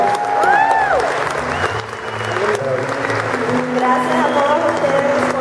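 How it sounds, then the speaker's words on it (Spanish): Loud audience applause at a church gathering in Las Vegas, dense clapping mixed with crowd cheers and whoops, while sustained organ-like music tones run beneath and a voice is briefly heard. "Yo le damos un aplauso fuerte a Mirka."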